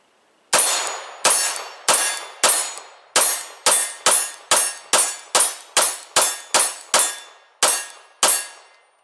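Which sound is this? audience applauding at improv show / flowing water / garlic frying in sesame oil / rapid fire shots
rapid fire shots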